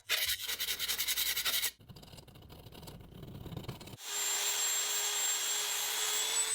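Polishing welded aluminum parts of a 1957 Tonka toy truck: a harsh grinding scrape, then a lower rough rubbing section, then a steady whining motor hum with a faint high tone, close and fairly quiet.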